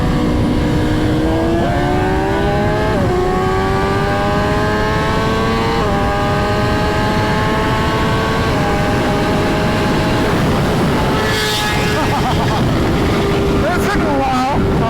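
BMW M1000XR and M1000RR superbikes race on a street, one engine held loud and close with rising and shifting harmonic pitch steps as gears change, and wind rush throughout.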